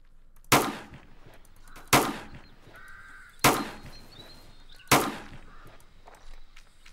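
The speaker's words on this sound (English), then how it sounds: "So it is like a hunting rifle, but like long range." Four sharp, loud gunshots from a long-range hunting rifle in a Roblox Fortnite-style video game, evenly spaced about a second and a half apart, each with a brief decaying tail, with faint game sounds between.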